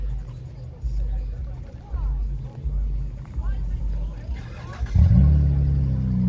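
A car fitted with a Flowmaster exhaust and a newly connected downpipe rumbles at a night car meet, then revs up loudly near the end, with crowd chatter in the background.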